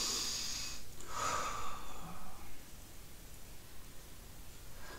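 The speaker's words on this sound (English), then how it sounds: "Just inhale and breathe." Slow, deep breathing during post-run stretching, a soft airy inhale and exhale heard close up over steady background hiss, with no talking.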